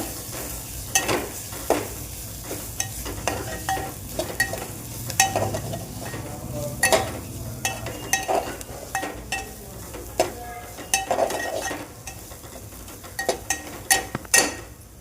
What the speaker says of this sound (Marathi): मिरची आणि त्याचं वाटण परतून